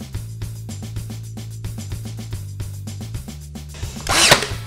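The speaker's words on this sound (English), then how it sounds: "We're gonna add some glue and nail those down now." Nails are driven into wooden angle pieces on a handmade changing table with storage, a steady run of sharp close taps, about a dozen in a row, ending in a louder burst.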